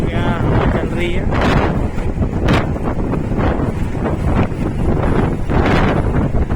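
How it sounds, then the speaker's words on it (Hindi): Strong wind blows outdoors beside a roadside hotel and dhaba in Moradabad, Uttar Pradesh, loud, gusty buffeting right on the microphone throughout, with a voice speaking partly under it. "हवा चल रही है।"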